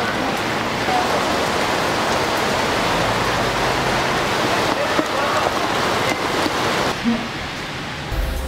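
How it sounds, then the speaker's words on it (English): Rain falls outside as a dense, steady hiss of water on surfaces, loud and continuous, with a voice speaking briefly over it. "It's raining outside."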